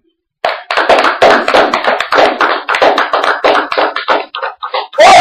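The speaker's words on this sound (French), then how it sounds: "Acclamons." A church congregation claps together in a dense, close burst of hand claps that keeps going for several seconds, then breaks up into uneven scattered claps before a voice starts.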